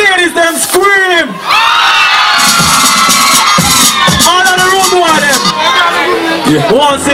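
Women in a crowd at the Spring Bling live dancehall concert in 2005 scream and cheer loudly and continuously, with shrill overlapping cries sustained throughout and a voice talking over the noise.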